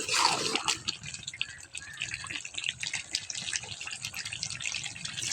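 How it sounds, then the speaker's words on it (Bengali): Water is poured into a pot of beef curry, making a close trickling and splashing with drip-like patters over a steady liquid rush, moderately loud and alone. "এখন আমি পানি দিয়ে দিছি।"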